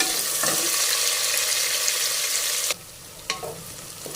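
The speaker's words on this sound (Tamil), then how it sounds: "கட் பண்ண வெங்காயத்தை போட்டுக்கலாம். ஒரு 5 மினிட்ஸ் வதக்கிக்கலாம்." Chopped onions sauté in a pan after cloves, cardamom and cinnamon for chicken masala biryani, a loud steady sizzle that suddenly drops quieter, then a couple of utensil knocks as the frying settles.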